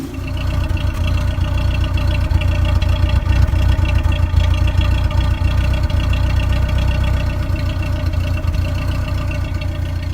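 A 1985 Subaru GL wagon with a custom-built exhaust idles steadily and loudly close by, a continuous low rumble with a faint rhythmic knock running through the whole stretch.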